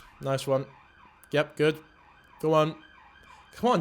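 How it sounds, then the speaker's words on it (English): An ambulance siren wails steadily outside in a continuous rising and falling tone, while people talk in short bursts over it. "That's the ambulance."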